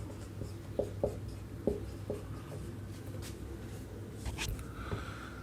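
Chalk or marker taps and scratches on a board as math is written out in a classroom, a series of short, faint strokes in the first half with quiet room noise throughout.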